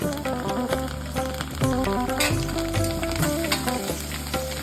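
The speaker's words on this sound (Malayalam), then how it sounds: "ഇനി ഈ ചതച്ച ഉള്ളി എണ്ണയിലേക്ക് ഇട്ട് കൊടുക്കാം. അതോടൊപ്പം തന്നെ കുറച്ച് നല്ല ഫ്രഷ് കറിവേപ്പില ഇട്ട് കൊടുത്ത്" Crushed onion and fresh curry leaves crackle and spit in hot oil for a Kerala-style chickpea curry, a dense close sizzle with some stirring clatter, alone without talk.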